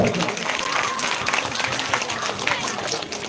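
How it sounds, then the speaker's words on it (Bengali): Loud applause from a crowd at a welcoming ceremony for a guest, sustained clapping over the whole stretch with a voice speaking over it. "জোরে হাততালি হয়ে যায়"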